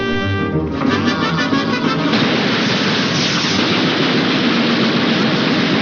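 Cartoon gunfire blasting at an airplane, a dense, loud, continuous roar of rapid shots and explosive noise that runs unbroken for several seconds with no gaps.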